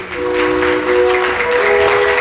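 Wedding guests give a loud, steady round of applause for the sisters of the bride or groom, dense clapping filling the short stretch with a faint tonal hum beneath.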